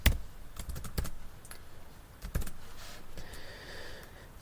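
Python code being typed on a computer keyboard, bursts of close, crisp key clicks with brief pauses between them, fairly quiet and with no talking.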